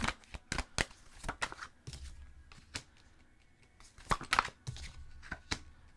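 Tarot cards are shuffled by hand, close up: quick riffling flutters and sharp snaps of the deck in repeated bursts, with soft handling rustles between them.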